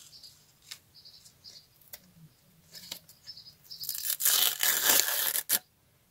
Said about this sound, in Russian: Вот такой вот пакетик. И мы его сейчас распакуем.